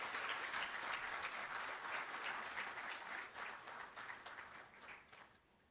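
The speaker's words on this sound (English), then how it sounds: "Shall we please welcome him with an applause, please?" An audience at the swearing-in ceremony for Ghana's Chief Justice gives a dense, sustained round of applause that gradually thins and fades out near the end.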